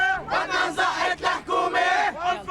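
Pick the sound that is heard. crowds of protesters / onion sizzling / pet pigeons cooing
crowds of protesters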